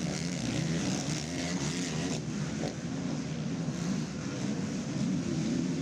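Yamaha ATVs race at the ATV motocross nationals at Loretta Lynn's, their engines roaring loudly and steadily throughout with no break, a dense, continuous, near-field racing drone.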